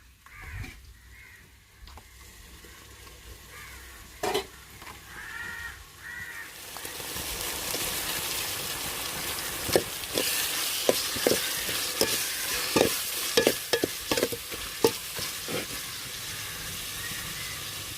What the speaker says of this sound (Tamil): சொந்தங்களே வெங்காயம் பச்சை மிளகாயும் நல்லா வதங்கி வந்துருச்சுங்க